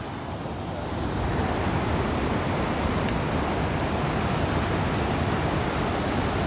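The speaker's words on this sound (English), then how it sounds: "Look, there's a second waterfall." A waterfall swollen after rain rushes as a dense, steady roar. The sound builds after the first second and then holds loud and unbroken, with no talking.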